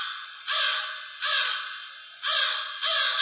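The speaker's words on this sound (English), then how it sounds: "a bird called crow" A crow caws four times in a slow, evenly spaced series, each call harsh and close, with brief silent gaps between them.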